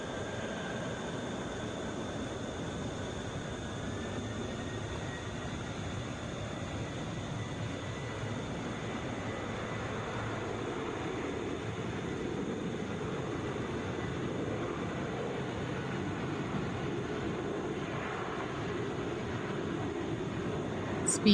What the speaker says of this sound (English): Delta 1834 coming in from JFK,